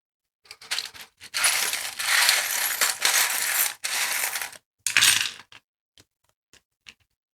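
Small metal tarot reading charms are tossed and jingle together in a loud, close rattling burst lasting a few seconds, then a handful of separate clicks as they settle.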